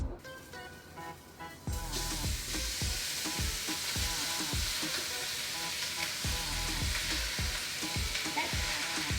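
Ground beef frying in a pan for bourekas, a loud steady sizzle with repeated scraping stir strokes throughout, no talking.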